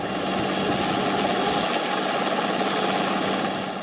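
A coast guard helicopter hovering over the sea during a rescue in cyclone conditions: a loud, steady, continuous roar of rotor and engine with a whining tone, unbroken throughout and without any talk.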